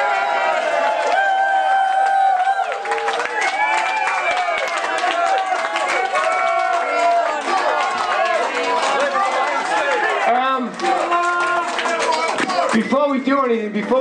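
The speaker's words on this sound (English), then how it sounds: "So we're just going to stand here till you applaud a bit more." A concert audience at a show in De Peppel, Zeist, claps, cheers and shouts for an encore, a dense, steady roar of crowd noise with voices rising through it throughout.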